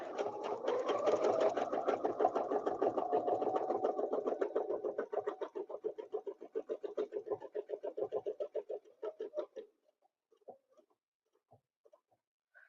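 A quilting sewing machine stitches a design in a fast, steady mechanical chatter that later slows into distinct individual stitches before stopping, with a few faint handling sounds afterward.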